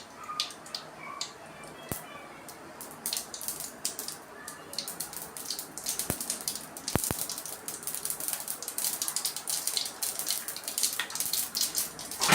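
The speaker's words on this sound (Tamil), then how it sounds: "இங்கே பாருங்கள், எண்ணெய் சூடாகிடுச்சு, அதனால் கடுகு போட்டாச்சு." Mustard seeds splutter in hot oil in a pan for chicken varuval, giving a continuous close crackle of sharp pops and clicks that grows denser and louder toward the end.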